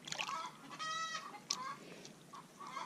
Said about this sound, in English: I think Bill did something back there and scared the chickens. And they got wound up.